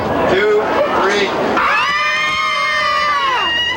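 A crowd at a plywood carnival-style game screams and cheers, loud overlapping voices giving way to a long, high sustained shriek near the end.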